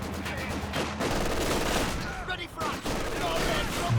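Dense bursts of machine-gun fire and scattered gunshots from the World War II strategy game Company of Heroes 2 rattle steadily through a 2v2 match, with a commentator talking over them.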